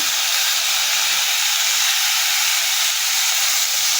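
Ground onion, ginger and garlic paste fries in hot oil in a pan after the whole spices are tempered, giving a steady, even, loud sizzling hiss with no talking.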